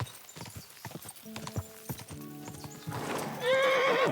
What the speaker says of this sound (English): I'm just riding a stolen horse right now, Mr. Riddler.